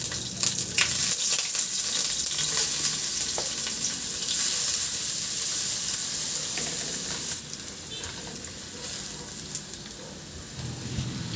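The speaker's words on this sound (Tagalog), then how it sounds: "Magpainit na ako ng mantika at igisa ko na rin yung luya at bawang" Ginger and garlic sauté in hot cooking oil for a simple chicken dish, giving a steady, close sizzle and crackle throughout with faint scraping, and no voices.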